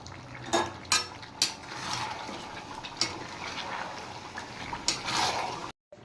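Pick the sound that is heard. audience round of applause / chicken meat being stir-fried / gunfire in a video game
chicken meat being stir-fried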